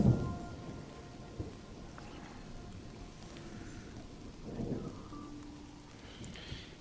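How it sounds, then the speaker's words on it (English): Rain falls steadily in the fantasy management game Mind over Magic, with soft rumbles of thunder rolling in at the start and again midway. "Everything that is outside is taking damage because of the rain"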